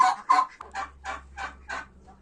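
A farm turkey gobbles in a rapid series of about six loud, warbling bursts, close and clear, over a faint low hum.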